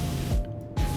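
A pressure washer in Powerwash Simulator hisses against a subway wall in short bursts, a steady broadband spray that cuts out briefly and resumes, close and fairly loud.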